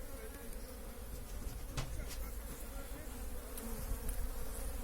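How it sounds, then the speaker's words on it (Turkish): A dense, steady buzzing of many honey bees close by at an open hive on a mildly windy day, droning continuously with a brief sharper buzz as one flies past. "Hava hafiften rüzgarlı olunca arılarımız harekete geçti."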